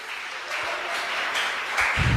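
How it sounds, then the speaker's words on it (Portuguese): A church congregation at a Sunday evening service applauds, a soft, fairly distant wash of clapping that runs steadily through the short moment and lifts a little at the end. "Você pode aplaudir o Senhor por causa disso?"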